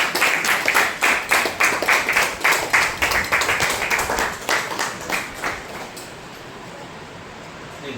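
A group claps in unison as a birthday greeting, rhythmic hand claps for about five seconds before fading into quiet room tone.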